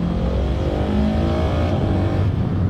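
A Husqvarna 701 Supermoto 2023 motorcycle accelerates hard, its single-cylinder engine note climbing in steady, close, loud revs with a brief dip as it shifts, without talk.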